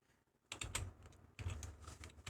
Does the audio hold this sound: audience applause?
no